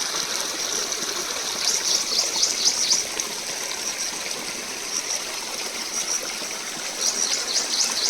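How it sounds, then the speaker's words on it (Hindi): Rain-season water running across a road in a Himachal village, a steady broadband rushing and trickling flow heard up close, continuous with no voices. "ये पानी निकल रहा है। और ये सारा पानी रास्ते के ऊपर से होकर के जा रहा है।"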